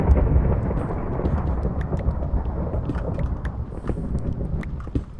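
Minecraft thunder rumbles loud and close, a dense low roar with crackling bursts running throughout and no speech over it.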